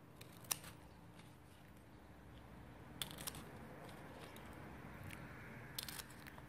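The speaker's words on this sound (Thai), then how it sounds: "แล้วเราก็กรรไกรเหมือนเดิมนะคะตัดตรงกลาง" Scissors cut paper while a folded four-cornered krathong is being made. A few faint, sharp snips stand out against quiet background hiss, with no talking.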